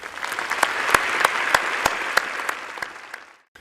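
Graduation ceremony audience in a historic hall at Imperial College, clapping in a sustained burst with sharp individual claps standing out near the front, loud and steady before quickly fading out at the end.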